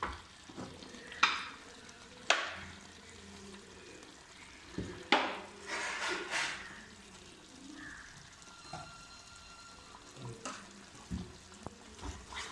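Boiling chicken curry stirred in a pot, with several sharp spoon scrapes and knocks against the pot over a soft bubbling bed; the strokes come irregularly, a few seconds apart, fairly close and with no talking.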